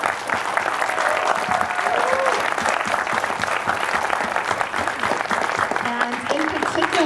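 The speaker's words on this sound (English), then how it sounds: "Can I get a quick round of applause for all of our volunteers?" Audience giving a round of applause for event volunteers at a web development demo day, steady dense clapping from a crowd sustained throughout, with some voices mixed in underneath.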